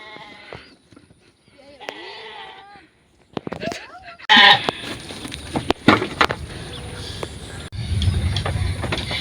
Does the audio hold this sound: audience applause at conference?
no